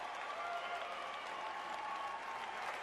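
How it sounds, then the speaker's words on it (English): A crowd cheers and applauds steadily for a man at a political event, dense sustained clapping and cheering at moderate loudness throughout, with no break. "They're going to cheer for him."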